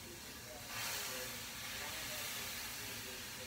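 A 2-in-1 product sprayed onto a dirty pan heated to over 1,000 degrees gives a faint, steady steam hiss that rises suddenly about two-thirds of a second in and keeps going.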